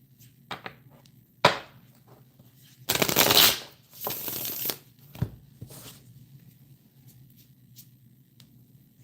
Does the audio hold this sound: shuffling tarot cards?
yes